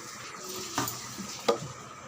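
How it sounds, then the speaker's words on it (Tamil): Cooked dal is mashed and churned in a pot with a ladle, giving a soft, close stirring with two brief scraping knocks of the ladle against the vessel. "நல்லா மத்து வச்சு இல்லை கரண்டியாலே நல்லா இது மாதிரி நல்லா கடைஞ்சிடுங்க"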